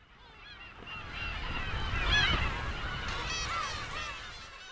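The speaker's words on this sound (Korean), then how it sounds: "고양이 울음소리를 가진 새, 괭이갈매기다" A breeding colony of black-tailed gulls on Hongdo island, with many mewing, cat-like calls overlapping in a dense continuous chorus over steady wind and sea noise, some birds near and others farther off.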